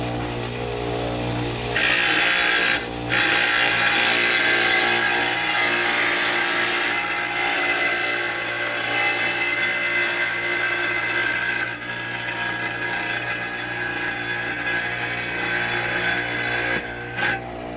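A Ryobi WS722 wet tile saw runs as a freehand cut is made through tile, giving a steady high grinding whine that holds for the length of the cut, with a couple of brief dips as the blade leaves and re-enters the tile.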